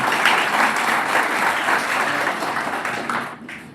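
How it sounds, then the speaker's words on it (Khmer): An audience claps for a prize winner, with dense, steady applause that stays loud and then fades near the end. "ផ្ទះដៃជូនអ្នកដែលបានរង្វាន់អមាញ់មិញមួយបាទ"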